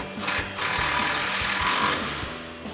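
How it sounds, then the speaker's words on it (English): A socket wrench tightens a 10mm bolt on a Ford F-150 exhaust isolator, giving a brief, close, continuous mechanical whirr, like a power driver spinning, that rises and then fades. "get our 10mm bolt back in with our 10mm socket"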